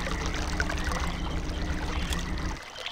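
Water gushes through a pipe in Channelwood Age of the game Myst, a full, steady rushing pour that stays even before dropping off abruptly near the end.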